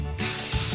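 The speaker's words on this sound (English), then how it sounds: "Now we're gonna use the Volume Up. Okay, spray our curl." A single close burst of Volume Up hairspray hits a curl of hair, a sharp aerosol hiss that starts abruptly and holds steady for over half a second.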